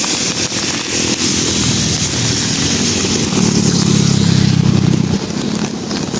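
Heavy engine of a tugboat pushing a large barge on the Pasig River near MacArthur Bridge, a steady loud low rumble that swells in the middle and continues throughout, with no talk.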